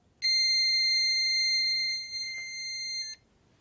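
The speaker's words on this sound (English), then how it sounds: "as we rotate through the up and down of the needle, we will have a beep on and off" A steady electronic tone sounds from an HQ Sweet Sixteen sewing machine during a needle sensor test as the hand wheel turns, holding loud for about three seconds with a brief dip and shift in level before it cuts off.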